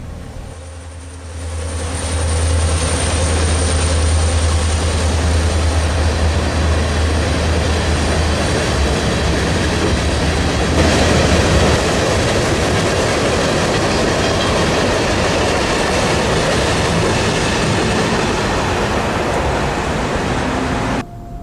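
A Kansas City Southern freight train, with locomotive KCS 5016, rumbles past close by in downtown Ruston, Louisiana, a loud continuous roar with rhythmic wheel clatter that holds steady for the whole stretch.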